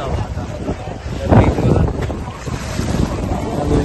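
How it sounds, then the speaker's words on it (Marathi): Speed boat ride across open sea from Pattaya to Coral Island, with steady engine rumble, rushing wind buffeting the microphone and water spray throughout, a brief louder surge partway, and faint talk underneath. "इकडं बोट आहे स्पीड बोट"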